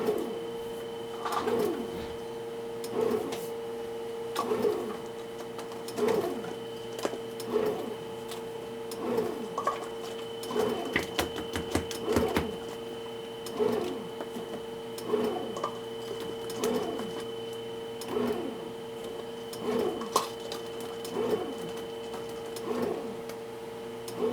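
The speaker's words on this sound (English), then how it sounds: "So we're going to turn the machine on, and we're going to add our 3 1/4 cups of bread flour." A home bread machine mixing bread dough with bread flour, giving a steady rhythmic churning with regular repeating thumps about every second, moderately loud and continuous with no talk.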